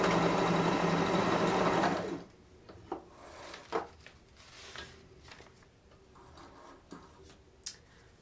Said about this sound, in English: when you are done sewing on the sewing machine